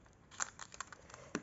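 Paper being cut with scissors for an art collage page: a short run of soft, crisp snips and crinkles, close and fairly quiet.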